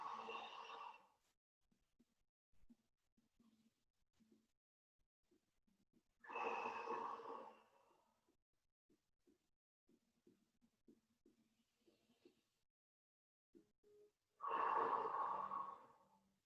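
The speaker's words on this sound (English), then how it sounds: "next time you breathe in, you're going to breathe into that rib cage where you're tight. And then exhale." Deep breathing during a rib cage mobility exercise: three slow, audible breaths a few seconds apart, each a close, soft rush of air, with quiet pauses between them and no talking.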